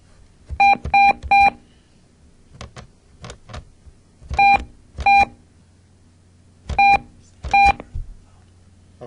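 Telephone keypad dialing beeps in short clustered bursts of two or three sharp tones, separated by pauses, with faint clicks and no talking between them.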